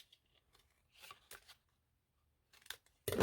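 Scissors cut a piece of paper in a few short, faint snips spread across a quiet moment, ending with a louder, closer cut.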